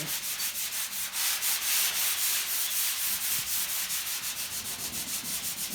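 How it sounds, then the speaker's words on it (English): Body panel on a Chevy pickup truck being sanded smooth before primer: loud, close, continuous rhythmic rubbing strokes repeating about every third of a second, with no voices. "it's all smoothed out, it's all sanded"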